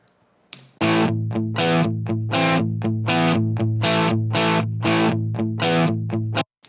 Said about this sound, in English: you're going to hear this one little repetitive riff over and over again